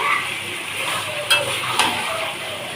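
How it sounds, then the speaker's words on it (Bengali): Mutton stir-fried with spices in a pan, a continuous close sizzle with scraping from stirring and two sharp metallic clinks of a utensil against the pan. "মাংসটাকে এখন ভালোভাবে কষিয়ে নেব।"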